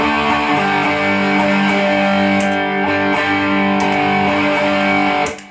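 Electric guitar played through a Tube Driver overdrive pedal set for slight breakup, sustaining warm, gently gritty chords that ring out steadily and loud before cutting off near the end.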